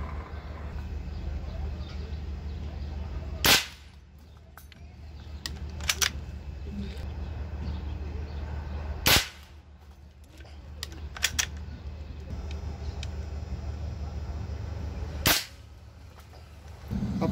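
Suppressed PCP air rifle from CO2 Brasil with an SMS barrel, firing a handful of sharp, isolated cracks spaced several seconds apart over a steady background hum.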